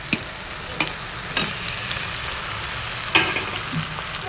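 Spice paste made with a yellowish-green chili powder sizzles steadily in hot oil for mustard pabda fish curry, with a few sharp spits and crackles over the continuous frying hiss; no one speaks.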